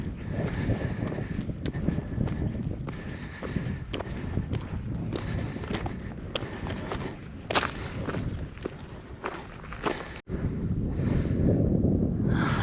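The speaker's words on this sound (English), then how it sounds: "still quite a strongish breeze, but it's certainly not gusting as much as it has been" Strong breeze buffeting near the summit of Bowfell, a continuous low rushing roar of wind with uneven gusts, mixed with scattered footsteps on rocky ground.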